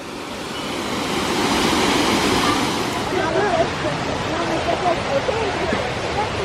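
A waterfall at a swimming spot where one can go behind the falls gives off a steady, close, full roar of rushing water, with voices faint beneath it.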